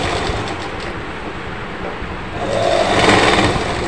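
A sewing machine stitches a simple kurti, its motor running in a steady, close whirring buzz that grows slightly louder and busier toward the end.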